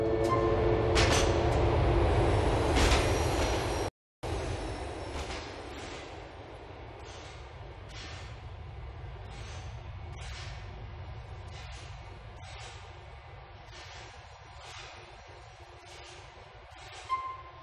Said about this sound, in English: The train is approaching Quartz East Station.